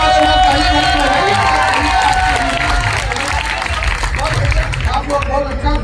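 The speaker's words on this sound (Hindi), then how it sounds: "जरा एक बार पीछे वाले में ताली लगाइए" A large crowd at an Indian kavi sammelan poetry gathering claps and cheers loudly and continuously in a dense, steady wash of applause, with voices mixed in throughout.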